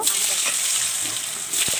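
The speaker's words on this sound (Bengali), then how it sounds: "তো কড়াইতে তেল গরম করে এলাচ আর তেজপাতা আর গোটা জিরে আমি ফোড়নে দেব" Hot oil sizzling in a wok with whole cardamom, bay leaf and cumin, for frying potatoes. A short, steady crackling hiss with a couple of faint pops.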